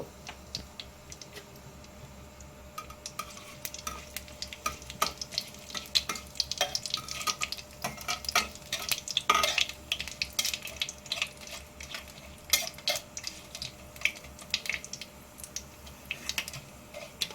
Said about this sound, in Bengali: দিলাম দুটো তেজপাতা আর দেব একটি শুকনো লঙ্কা এবার হালকা নাড়াচাড়া করে নেব